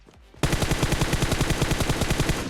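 Automatic gunfire in PUBG Mobile bursts in after a brief quiet moment, a loud, steady rapid stream of shots that continues to the end.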